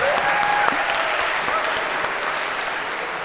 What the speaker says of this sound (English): A round of applause, because that was difficult.